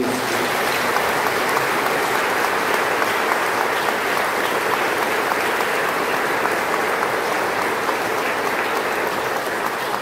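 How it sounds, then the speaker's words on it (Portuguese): A large congregation at a Sunday Mass for the Feast of Divine Mercy applauds continuously, a loud, dense wash of clapping that fills the church evenly without letting up. "Uma salva de palmas"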